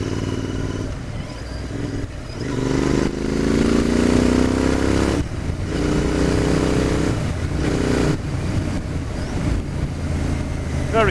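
A Royal Enfield Interceptor 650 motorcycle cruises in sixth gear at about 30 mph down a country lane, its engine a steady low drone that swells and eases gently, with wind noise throughout.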